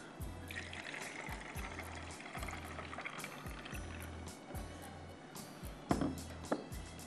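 Water poured into half a cup of red sharbat syrup with ice cubes, a steady trickling pour running throughout with a few clinks near the end, close and moderately quiet, with no talk.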